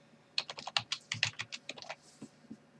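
Quick clicking keystrokes on a computer keyboard, about a dozen crisp taps in an uneven burst, close and clear, slowing to a couple of final presses.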